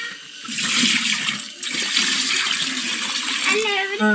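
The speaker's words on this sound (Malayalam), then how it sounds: "ചിക്കൻ ഇവിടെ വേവിച്ച ഈ നീരിന്റെ അകത്ത് നമുക്ക് വെള്ളം ഒഴിക്കണം" Water pours into a pot of chicken cooking liquid for mandi rice, a continuous close rushing gush that holds steady for several seconds before easing off.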